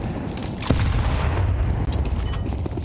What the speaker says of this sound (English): Oh, those nades are devastating.